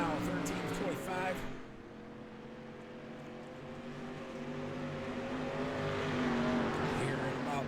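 Dirt track race cars roar around Volusia Speedway during a race, their engines droning in a continuous loud growl with rising and falling revs, and a commentator talks over the noise throughout.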